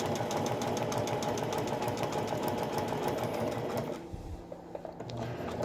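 A sewing machine runs fast, zigzag stitching a shield appliqué cover, a dense steady needle chatter that carries on for about four seconds before easing into a softer, slower patter.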